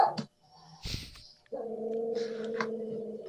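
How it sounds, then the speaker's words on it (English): A dog indoors gives a short sustained growling or whining vocal lasting a couple of seconds after a few brief noises, close and moderately loud, with no talk over it. "My dog is telling me to shut up."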